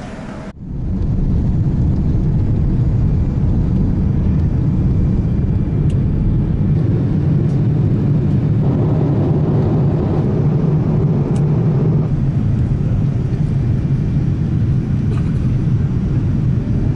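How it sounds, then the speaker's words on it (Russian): A KLM airliner sits at the airport gate during boarding, its engines or auxiliary power producing a continuous loud low rumble and hum that stays steady throughout. "Вот наш самолет, КЛМ, началась посадка уже."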